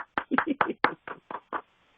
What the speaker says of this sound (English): No one else is clapping. I clap.